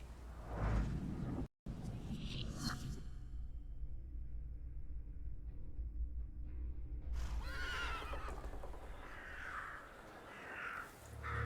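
A horse in the video game Thaumaturge gives a loud, drawn-out neigh and whinny, followed by a stretch of quieter ambience and then a second burst of whinnying near the end, heard alone without speech.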